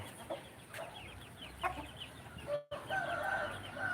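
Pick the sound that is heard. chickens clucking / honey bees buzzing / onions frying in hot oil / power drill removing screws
chickens clucking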